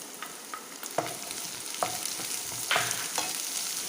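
Chopped onion stirred into a pan of frying ginger, green chili and garlic, giving a steady sizzle broken by several sharp scraping stirs of a utensil, close and fairly loud with no talking.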